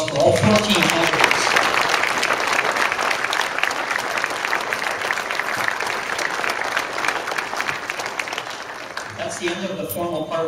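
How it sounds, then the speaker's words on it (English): Sustained audience applause for fourteen election candidates at a 2013 Vegreville public forum, a dense steady wash of many hands clapping for about ten seconds before a voice begins speaking near the end. "we have a round of applause for all 14 candidates"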